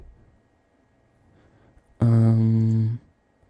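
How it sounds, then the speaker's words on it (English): A loud, buzzy synthesizer tone from a lunacy oscillator in Ableton sounds alone for about a second after near silence, rich in harmonics and cutting off abruptly. "The lunacy oscillator has a really interesting sound"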